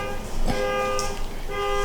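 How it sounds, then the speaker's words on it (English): A loud electronic alarm sounds with a steady, harmonic tone, briefly breaking off near the middle before resuming; no one speaks. "That's my alarm going off."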